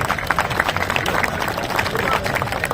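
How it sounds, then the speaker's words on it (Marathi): A crowd claps in a dense, continuous patter for a wrestling bout after a ghissa move, while an announcer talks over the applause. "टाळ्या करा सगळ्यांनी"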